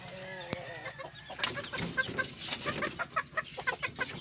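A flock of farm chickens kept for meat clucks in quick, repeated bursts close by, with a loud squawk early on and steady chattering that continues to the end.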